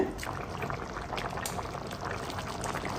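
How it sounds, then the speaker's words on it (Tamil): A pot of curry with boiled broad beans boils hard over a full flame, giving a loud, steady, continuous bubbling and hiss with no talking. "குழம்பு நல்லா கொதிக்குதுங்க."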